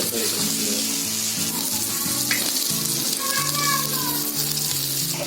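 A pan sizzles loudly and steadily while egg bhurji is being made in a home kitchen in Ratnagiri, with a constant frying hiss, a few light clinks, and indistinct voices and background music underneath.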